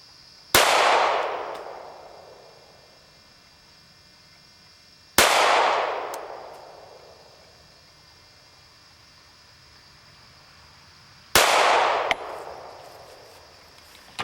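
Three loud pistol shots at an outdoor shooting range, each a sharp crack followed by a long decaying echo, spaced about five to six seconds apart with no talk between.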